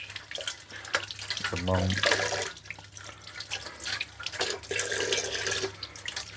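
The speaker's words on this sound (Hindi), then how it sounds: "इन परों को अच्छी तरह साफ़ करें और इसको अच्छी तरह धो के" Tap water runs steadily into a sink while raw chicken legs are rinsed and rubbed clean by hand, splashing close by under a voice.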